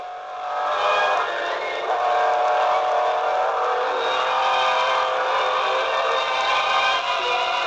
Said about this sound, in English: Otto Dyker on another NSU piles on the speed.